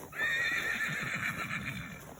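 A horse on a farm lets out a loud, drawn-out whinny nearby, a high quavering call lasting about two seconds over faint hoof noise.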